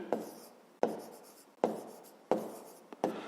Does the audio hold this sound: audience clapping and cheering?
no